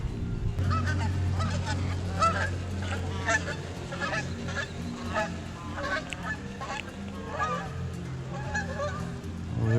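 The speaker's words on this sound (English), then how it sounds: "There goes all the geese." A flock of geese honks repeatedly near a small backyard pond, a steady chorus of overlapping calls at moderate distance over a low hum.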